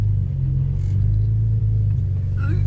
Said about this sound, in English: We got a bunch of go fast cars here